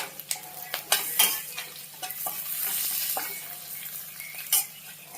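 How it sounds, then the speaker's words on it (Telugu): Chopped onion fries in a pan with turmeric added, a steady close sizzle broken by repeated clinks and scrapes of a spoon stirring against the pan. "ఆనియన్ మంచిగా ఫ్రై అవుతుందండి."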